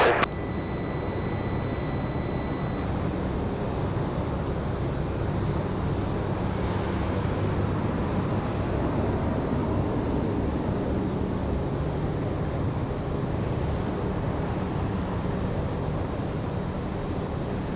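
A steady, broad engine roar from aircraft at Raleigh-Durham International Airport holds at an even level throughout, opening with a brief high electronic tone.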